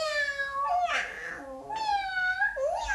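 A pair of drawn-out, high, rising-and-falling meows, close and clear with a short pause between them, in the context of a children's book about a mother cat and kittens. The meows may be a person imitating a cat.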